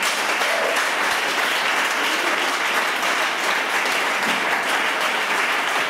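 A church congregation applauds and cheers in praise, steady dense clapping filling the room at close range for the whole stretch, with voices mixed into the din.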